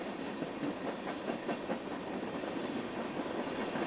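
A train riding on rails in the video game 428 Shibuya Scramble, a steady rumbling clatter with a faint rhythmic clickety-clack, continuous and fairly quiet throughout.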